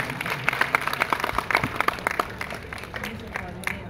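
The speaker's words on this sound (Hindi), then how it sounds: "जोरदार तालियों से स्वागत करते रहें" An audience claps at an Independence Day police medal ceremony in Dehradun, with sharp clustered claps under a speaking voice that taper off.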